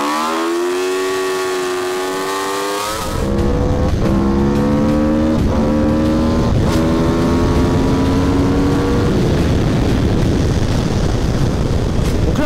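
A drifting motorcycle on a race circuit screams past at high revs, then roars on with repeated gear shifts and rising pitch sweeps, loud and close.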